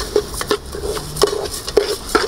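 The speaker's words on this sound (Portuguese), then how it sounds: "Arroz bem refogado." Rice being sautéed in a pot, with a spoon stirring it in regular scrapes and clinks against the pot over a soft sizzle, about five distinct strokes in a couple of seconds.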